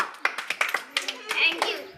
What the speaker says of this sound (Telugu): okay claps